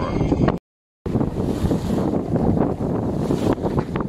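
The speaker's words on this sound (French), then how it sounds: "il y a beaucoup de vent" Strong wind on a sailboat heading toward Cap de Creus, heavy gusty buffeting across the microphone with a rushing wash of water below, broken by a brief cut to silence, and no voices.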